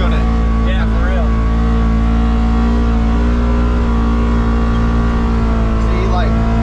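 A Polaris Xpedition side-by-side grinds along a trail in low gear, its engine droning loud and steady with a strained, high-revving whine throughout. Faint voices sit beneath the engine noise.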